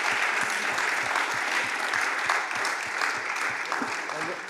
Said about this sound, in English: I would like you to applaud and thank you the different panelists tonight